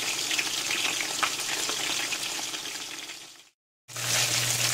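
Chicken wings frying in hot oil make a steady, close, crackling sizzle that breaks off briefly into silence and then resumes just as loud.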